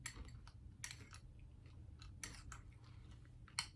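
Crunchy granola being chewed close to the mic, a quiet run of crisp crunches in uneven bursts with a sharper bite near the end, over a low background hum.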